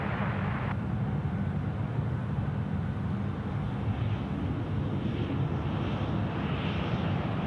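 An Asiana airliner takes off from runway 34 left at Sydney Airport, a heavy, continuous jet engine roar holding steady and loud throughout, heard from a distance across the airfield.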